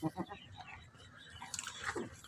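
A Faisalabadi goat that has just given birth makes soft, quiet bleats and rustling, chewing-like sounds close by in a farm setting, with low background noise.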